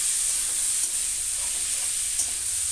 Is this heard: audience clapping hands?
no